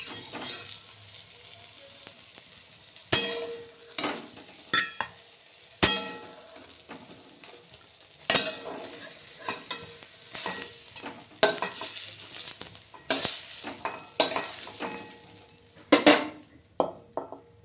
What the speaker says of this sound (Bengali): বেগুন ভাজা হয়ে গেল